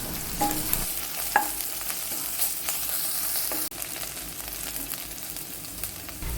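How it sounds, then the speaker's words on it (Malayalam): Onion, ginger and garlic sautéing in a hot pan with a steady, close sizzle, broken by a few scraping stirs and occasional sharp clinks, with no talking. "എല്ലാം കൂടി നമുക്കൊന്ന് നന്നായിട്ട് വഴറ്റിയെടുക്കാം"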